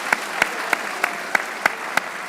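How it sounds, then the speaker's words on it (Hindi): A few sharp, evenly spaced hand claps ring out in a quick, steady rhythm, about seven distinct slaps in two seconds, close and fairly loud over a quiet background. "तालियां हो जाए।"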